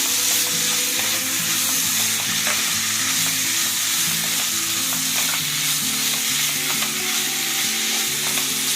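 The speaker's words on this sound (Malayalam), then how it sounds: "ഇനി നമുക്ക് ഇളക്കി കൊടുക്കാം. നമുക്ക് നന്നായിട്ട് മിക്സ് ചെയ്യാം." Chicken thoran, a Kerala stir fry, sizzles loudly and continuously in a pan while being stirred, with repeated scraping and clattering strokes throughout and no talking.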